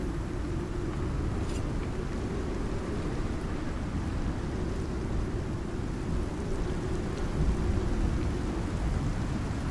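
A video game thunderstorm, with a dense steady rumble of rain and low thunder rolling continuously, loud and unbroken throughout.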